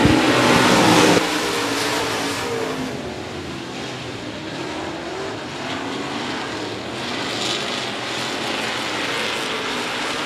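Street stock race cars roar around the oval at 105 Speedway in a steady, loud engine drone, louder at first as a pack passes close, then holding a continuous broadband rumble with no talk.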